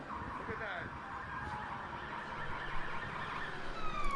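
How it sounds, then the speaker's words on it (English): Siren of a police mass arrest bus pushing through a protest crowd in Philadelphia, a distant wailing tone rising faintly over steady crowd noise and street din. "So that siren you hear is the police mass arrest bus trying to get through the crowd."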